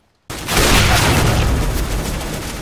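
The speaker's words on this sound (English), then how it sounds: "I am throwing a grenade!" Grenade explosion in CS:GO bursting suddenly out of silence, a loud close boom followed by a long rumbling, crackling roar that slowly fades, with no voices.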